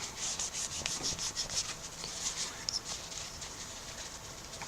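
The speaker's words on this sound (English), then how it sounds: "it starts to shine quite nicely and sort of lubricate the cloth as you're buffing it" A cloth rubs briskly over a wooden tobacco pipe by hand, a quick rhythmic series of soft, close hissing swipes repeating steadily with no voices.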